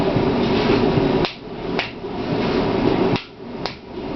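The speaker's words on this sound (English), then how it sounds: "you use the rubber part or a wooden mallet or something and you tap around it" Mallet taps a tight bushing onto a hub during a C6 high-performance build, giving a few sharp, separated knocks over a steady background hum, close and moderately loud.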